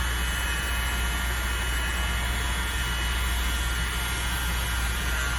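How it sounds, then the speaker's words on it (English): A small handheld air blower pushes air over wet paint in a steady, unbroken whoosh with a low rumble, close and fairly loud throughout. "I'm gonna use my little tiny blower, and let's see what we get."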